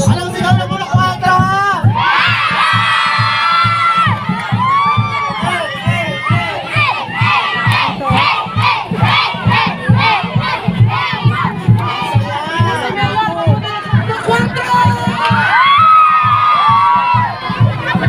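A neighbourhood crowd (purok 4) at a local gathering bursts into a loud, chanted cheer, many voices shouting together in rhythmic bursts with whoops, close and energetic throughout.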